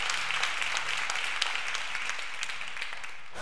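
A church congregation claps their hands together in a broad, even wash of applause that holds steady and fairly loud from start to finish, with no talking over it.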